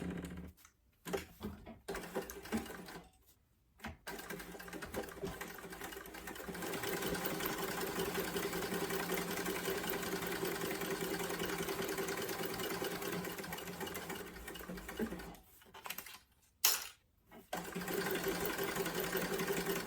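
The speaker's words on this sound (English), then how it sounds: "And then I'm going to top stitch just the top edge." A sewing machine top stitches along the top edge of a sling bag, running in long steady bursts with brief pauses between, close and fairly loud.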